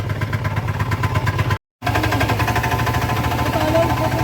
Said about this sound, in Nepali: यहाँ यही ट्र्याक्टर लिएर जानु लाग्यो